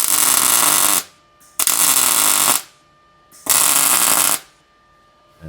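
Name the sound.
welder welding 20 gauge steel on hot setting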